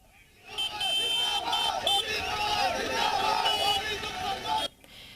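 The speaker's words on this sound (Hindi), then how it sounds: "देहरादून से इस वक्त बड़ी संख्या में युवा प्रदर्शन में भाग लेने के लिए पहुंचे हैं।" A large crowd of young people at a paper-leak protest in Dehradun, chanting and shouting together in a loud, dense roar that holds steady for several seconds before cutting off abruptly.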